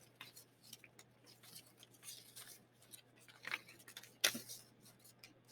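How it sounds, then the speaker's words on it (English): Scissors snip through paper while cutting a spiral, a series of soft irregular clips ending in one sharper, louder snip. "really practice the whole turning with your other hand, the paper, and then opening and closing your scissors"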